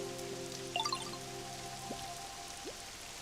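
Rain falls in the Pokemon Pokopia game on Nintendo Switch 2, a steady soft patter of drops with a few brighter droplet plinks over a low game music bed, with no talking.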